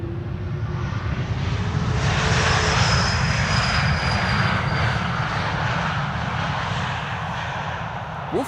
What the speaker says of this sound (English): E2, Embraer 195, flight 1476, arriving from Nice